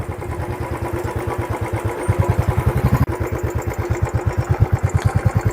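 A motorcycle engine idles close by at a parking spot near the Pykara boat house on the road between Ooty and Gudalur, its steady, even thumping pulse continuing throughout.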